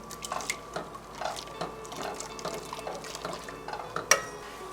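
A pumpkin pastry cream mixture is stirred in a pan, giving soft, steady scraping and clinking of utensil against metal with light liquid sloshing, one sharper clink near the end.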